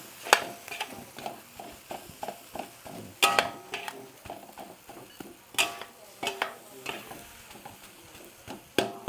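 Egg fried rice being stirred and tossed in a pan at home, a spatula scraping and clinking against metal in irregular strokes with faint sizzling underneath, close and fairly loud, no talking.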